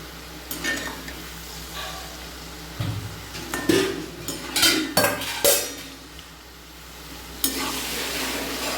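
Homemade jackfruit chips deep frying in hot oil, with a steady sizzle and repeated clinks and scrapes of a metal utensil stirring against the pan, close by.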